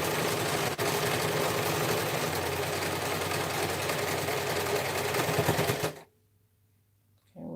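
Sewing machine stitching a dressform cover with cording, a rapid, even mechanical whirring and chatter for about six seconds, near and steady, then stopping abruptly into quiet with a faint low hum.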